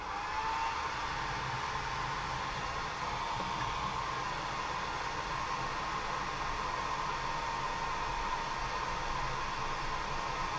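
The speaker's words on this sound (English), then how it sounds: "Blow dry that." A hair dryer blows steadily and loudly to dry a layer of hairspray on a painted model, a constant whooshing roar with no speech.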